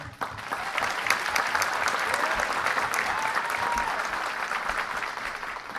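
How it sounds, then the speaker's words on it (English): Audience at a parish convention gives a steady round of applause, many hands clapping at moderate volume throughout, with no one speaking over it. "I think you deserve a round of applause"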